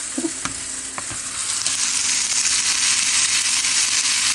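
Brown rice frying in a pan, a loud continuous sizzle with a few scraping knocks of a utensil stirring and pressing it, close up with no talk.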